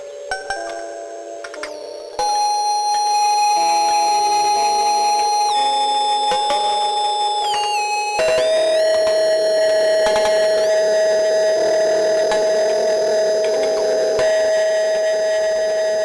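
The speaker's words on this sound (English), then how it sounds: "it's running into a sort of a Roland distortion unit, so distorted it, but I've also changed the sample rate of the output, so it becomes this really glitchy kind of grimy" A modular synth run through a Roland distortion unit with a reduced output sample rate gives loud, sustained, glitchy, grimy tones with stepped pitch shifts and buzzing harmonics, playing alone without talk.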